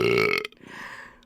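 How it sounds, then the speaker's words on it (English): A single loud, close burp from someone during a podcast recording, a short guttural belch that fades quickly into quiet room noise. "Someone burped and it weren't me."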